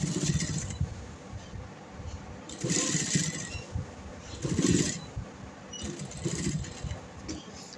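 Sewing machine stitching a Chinese collar neckline on fabric, running in several short bursts with brief pauses between them, close and fairly loud.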